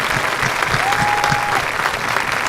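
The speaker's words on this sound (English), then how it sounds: "could you please join me in providing these staff members with a round of applause" A hall audience at a senior awards ceremony applauds staff members, with close, dense clapping sustained evenly across the whole moment and no speech over it.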